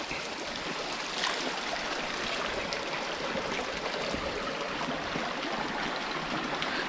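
Steady rushing and trickling of water flowing in a stream in a Ladakh border area, continuous and fairly close, with no talk over it.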